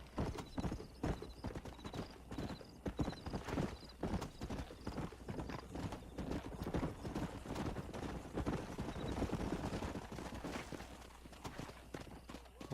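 A stallion in the Red Dead Redemption video game gallops with rapid rhythmic hoofbeats, loud and close, interrupted once by a whinny, with faint talk underneath.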